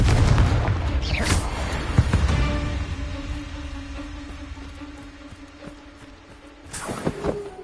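Confringo explosive spell in the video game Hogwarts Legacy, a loud booming blast at the start with debris rumble fading away, then a second sharp burst near the end.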